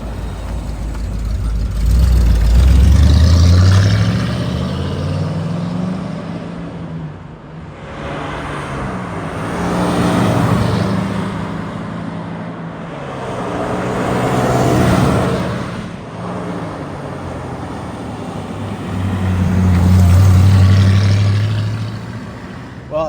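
A 1963 Studebaker Avanti R1 makes repeated flybys, its engine swelling from distant to loud as it passes, fading, then returning for another pass about every six seconds.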